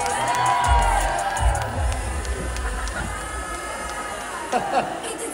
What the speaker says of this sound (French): On peut faire un maximum d'applaudissements, un maximum de bruit, s'il vous plaît.